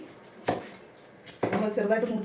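Two sharp knife chops on a board, about a second apart, cutting peeled unripe jackfruit into small pieces; the second chop is followed by a voice speaking nearby.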